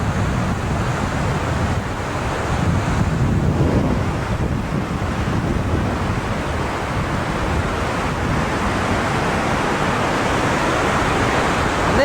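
Roaring rushing water of the Niagara River rapids above Niagara Falls, a loud, steady broadband churn that never lets up, with wind buffeting the microphone throughout and no talking.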